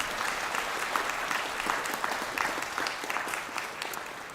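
Sustained applause from a crowd at a university conferring ceremony for graduates, a steady wash of many hands clapping at moderate volume, heard somewhat distant and even throughout.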